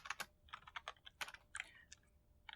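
Rapid keystrokes on a computer keyboard as a terminal command is typed, a quick irregular run of close clicks with brief pauses, heard alone without speech.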